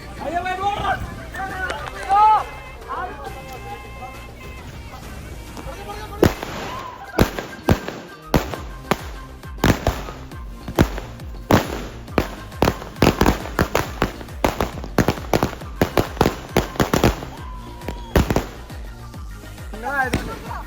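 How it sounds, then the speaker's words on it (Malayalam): Firecrackers burst at a wedding celebration in a rapid, irregular string of sharp loud bangs, some overlapping, after a stretch of people chattering and singing nearby. "അങ്ങനെ അടുത്ത പടക്കം പൊട്ടിക്കാൻ പോവാണ്"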